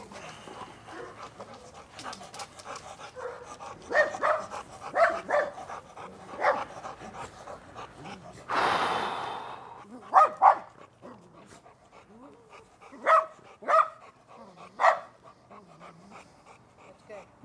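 A dog named Nova pants steadily and lets out several sharp barks and yips close by, with a person talking intermittently around the sounds.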